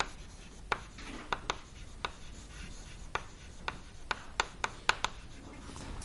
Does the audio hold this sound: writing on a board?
yes